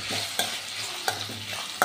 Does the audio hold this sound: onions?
yes